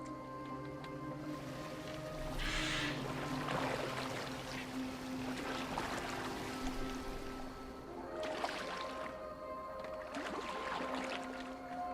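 Boat moving on water in Assassin's Creed Valhalla, a soft continuous wash of splashing and lapping water with low ambient rumble and tonal music, no talk.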